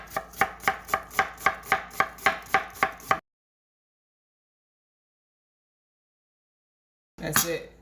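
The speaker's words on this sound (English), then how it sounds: "I'm going to take it and I'm going to just do a quick julienne." A knife rapidly julienning an onion on a cutting board, about a dozen crisp, evenly spaced chops in quick rhythm, then silence before a brief final burst of cutting.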